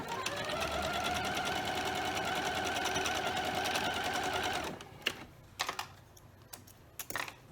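A sewing machine runs a 1/4 inch seam on a scrappy quilt with Drunkard's Path and rhombus pieces in one steady whirring run of about five seconds. A few faint clicks and fabric handling sounds follow.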